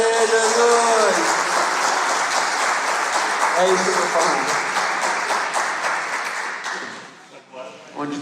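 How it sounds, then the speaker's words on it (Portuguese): A church congregation applauds during a sermon, a dense, steady wash of clapping filling the room for several seconds while a voice speaks over it, then fading out as the talking carries on alone. "dá salva de palmas aí, Jesus"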